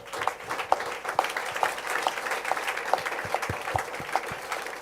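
A church congregation claps in steady rhythmic unison to praise God during a service, a dense, even pulse of hands that continues throughout with no talk over it.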